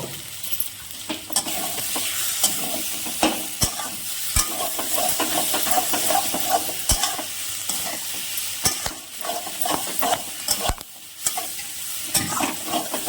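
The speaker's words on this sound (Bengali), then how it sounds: "মিষ্টিটা দিয়ে ভালো করে একটু মিশিয়ে নিয়েছি" Kochu shak, taro leaf greens, sizzles in a wok while a spatula stirs sugar through them, making steady frying hiss broken by frequent sharp scrapes and clicks against the metal, close and continuous with no voices.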